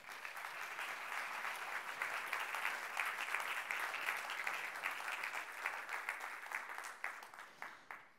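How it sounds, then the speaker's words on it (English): Steady, dense audience applause at a European summit, many hands clapping evenly and continuously for several seconds, then thinning out toward the end. "Thierry Breton, all we need to do now is give you a big round of applause."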